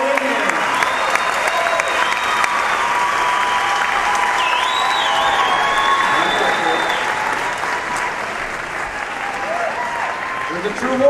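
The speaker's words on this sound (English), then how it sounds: "let's have a big round of applause" Sustained audience applause fills a bodybuilding stage show, with a dense, steady wash of clapping and some cheering that holds for about eight seconds before tapering off slightly.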